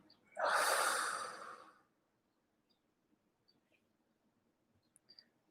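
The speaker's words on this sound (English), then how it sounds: "Deep breath in" A single deep breath out, a soft, close airy exhale lasting about a second and a half, followed by near silence with a few faint small noises.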